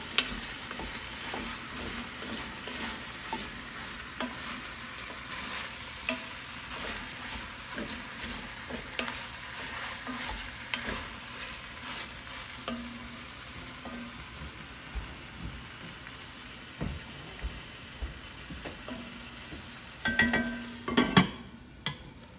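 Onion, kale and vegetables fry in oil in a pot, giving a soft, continuous sizzle. A utensil scrapes and stirs occasionally, then clatters louder near the end.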